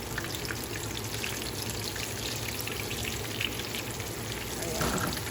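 Thin chicken fried steak cutlets sizzle in a pan, giving a steady dense crackle and spatter throughout at moderate level, with no voice over it.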